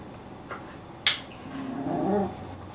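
A dog whimpers softly in a brief, faint whine near the end, preceded by a sharp click, with quiet room noise and no speech.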